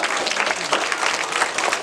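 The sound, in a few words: audience applause for actors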